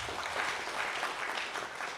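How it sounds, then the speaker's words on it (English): Faint, distant applause from the audience at a Tangaza University College philosophical symposium: a steady patter of many hands that holds at an even level for about two seconds. "Let's clap for ourselves."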